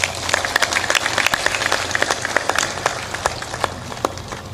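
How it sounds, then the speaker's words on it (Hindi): An audience gives loud, sustained clapping during a spiritual discourse by a Hindi-speaking saint, a dense close patter of many hands that eases off slightly toward the end. "ताली बजाने की बात है तो जोरदार ताली भी बजा दो।"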